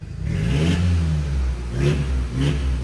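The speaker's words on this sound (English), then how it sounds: "It sounded like the turbo was working." A turbocharged Audi TT engine revs up and down in a garage bay, the mid-pitched engine note rising in three close, loud bursts with a steady rumble between them.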